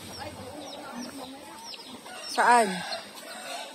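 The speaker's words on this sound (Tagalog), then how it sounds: "Ang dami pala niyang manok." Farmyard chickens cluck softly in short scattered calls, with one brief louder crowing burst in the middle and a single spoken word nearby.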